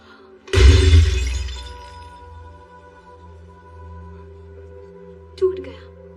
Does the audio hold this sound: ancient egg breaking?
yes